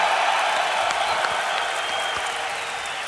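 Crowd cheering and applauding at an esports tournament, a dense, steady roar of many voices and claps lasting throughout, loud and full with no single voice standing out.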